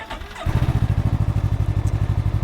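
A Can-Am Ryker three-wheeled motorcycle engine cranks briefly and catches, then settles into a loud, steady, close-up idle with an even pulsing throb.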